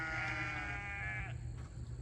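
A single sheep bleats for over a second with a wavering, drawn-out cry, close by, over a steady low hum of farmyard background.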